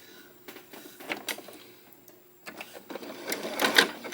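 A sewing machine pieces together quilt squares, running in short uneven bursts of stitching with brief pauses between, close and moderately loud in a quiet room.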